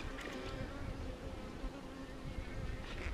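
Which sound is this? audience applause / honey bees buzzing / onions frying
honey bees buzzing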